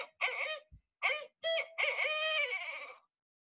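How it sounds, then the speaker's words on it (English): A played recording of a barred owl calling, a series of hooting phrases in several bursts, the last drawn out and falling off. The calls are clear and close, with no other sound around them. "Let's just quickly listen to the owl sounds, and I'll give you some mnemonics to remember these. We'll start with one that you probably already know, the barred owl"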